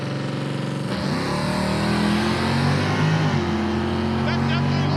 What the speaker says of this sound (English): The motor sounded clean.